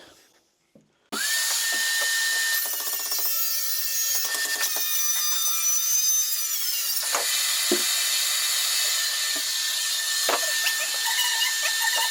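A power saw starts up loudly and whines steadily as it rips wood into strips, the pitch shifting as the blade bites and cuts.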